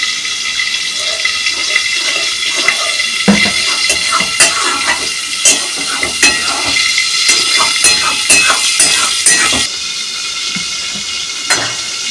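Water poured into a sizzling rohu fish curry with raw mango, a loud rushing hiss and spluttering crackle up close, with clinks of utensils against the pan, settling to a quieter simmer near the end.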